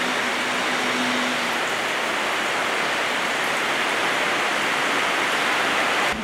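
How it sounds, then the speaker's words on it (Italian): Heavy, steady rain pours down during flooding in Chioggia, a constant dense hiss filling the scene from start to finish with no voices over it. "Sentite anche come la pioggia battente continua incessantemente a ricoprire il territorio"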